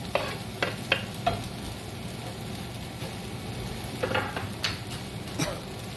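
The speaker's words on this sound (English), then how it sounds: "spread it throughout the pan so it gets mixed pretty well" Marlin with peppers and cilantro sizzles in a frying pan while being stirred, a constant close frying hiss broken by several sharp scraping clicks of the utensil against the pan.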